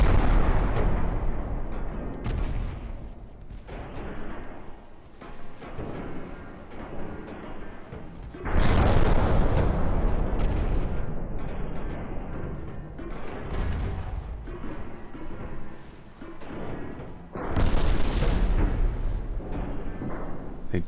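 Naval guns in a video game fire shells at a ship in heavy, booming volleys, each a loud blast that rolls and rumbles across the scene. The volleys repeat at intervals over a dense roar of battle.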